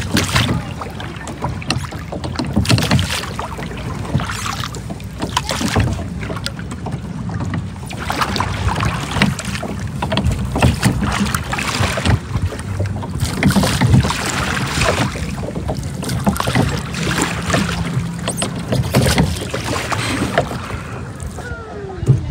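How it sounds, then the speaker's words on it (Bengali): A boat moving continuously on the water at Versailles and swaying in the wind, with loud, steady wind buffeting and water wash close by throughout, with no voices. "বাট বোটটা কন্টিনিউয়াসলি চলতেছে এবং বাতাসে এদিক ওদিক ধুলতেছে"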